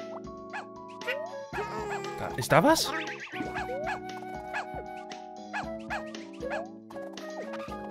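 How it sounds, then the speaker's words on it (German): A cartoonish dog barks in the video game Yoshi's Woolly World, giving repeated short yipping barks among bouncy game music and squeaky effects, while someone talks over it. "Mann, immer wenn er bellt, vibriert mein Gamepad."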